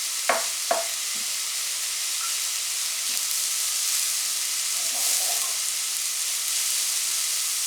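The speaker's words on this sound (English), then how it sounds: "we'll keep stirring this until the onions become translucent" Onions frying in a pan for spaghetti Bolognese, a soft steady sizzle with a few knocks of a stirring spoon at the start and faint scraping later.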